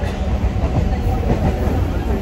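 Steady rumble of a moving train, low and loud, with a constant rolling roar throughout.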